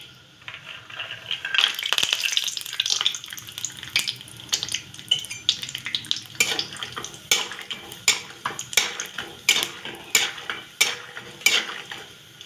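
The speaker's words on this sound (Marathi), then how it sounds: "शेंगदाणे तळून घेऊया" Peanuts frying in oil in a pan, for a vermicelli upma, stirred with a ladle: a steady sizzle that first swells into a dense crackle, then gives way to a series of regular scraping strokes, close and fairly loud.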